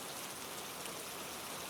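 Continuous rain pours down in a dense, unbroken hiss of drops, with no talking.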